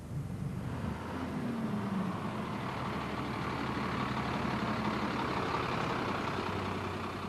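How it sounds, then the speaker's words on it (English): A bus pulling in to a stop with a continuous heavy diesel engine rumble, steady and fairly loud close by, and a faint hiss near the start. "As the bus pulled up at her stop"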